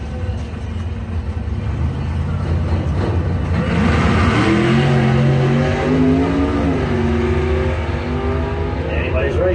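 Drag race at a doorslammer event between a Ford Thunderbird and a snowmobile: loud, sustained engine roar with rising revs that climbs through gear changes, heard under continuous announcer commentary.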